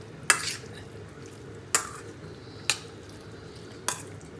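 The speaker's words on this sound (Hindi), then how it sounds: "तो ये हम इसमें ऐड कर लेंगे और इसको हम बहुत अच्छे से इसको मिला लेंगे।" Ginger and garlic are mixed into chicken on a tawa: four separate sharp scrapes of a spoon against the pan, each followed by a faint sizzle, close by with quiet gaps between them.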